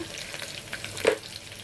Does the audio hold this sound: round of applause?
no